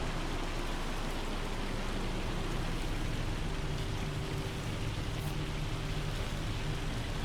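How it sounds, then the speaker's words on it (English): Heavy rain pours down on the Riverbend Springs farm in Farming Simulator 25, a dense, steady hiss of downpour with a low rumble beneath and no voices. "And now it's pouring down heavy."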